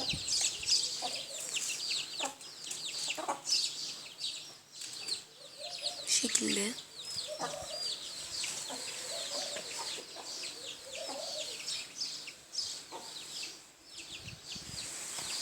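Chickens cluck softly nearby among chirping birds and a rooster's calls, while a person briefly speaks.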